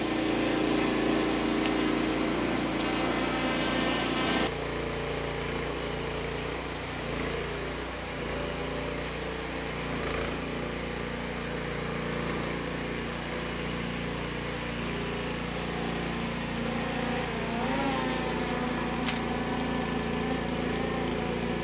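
Ameta S20 Lite beginner drone flying nearby, a steady, loud whine and buzz of small propellers holding for over twenty seconds, shifting slightly in pitch as it moves, with no one talking.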